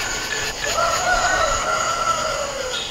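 A rooster crows at night outdoors, one drawn-out call rising and falling at moderate distance over a steady background hum, with no talking.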